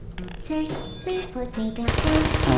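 Rapid automatic gunfire from a sentry turret in Portal, a loud burst of repeated shots at the end, preceded by the turret's synthetic voice lines and game sounds.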